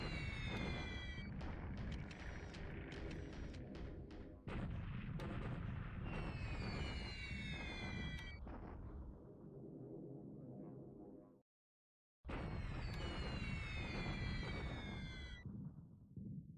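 Bombing run explosions in the game War in the Pacific, heard as repeated loud, booming bursts in long dense blocks with whistling high tones, a brief silence, then another heavy round.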